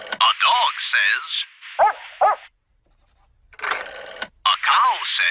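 Cartoon dog barks come in short yelping bursts, mixed with a lively voice and a brief quiet gap, loud and close.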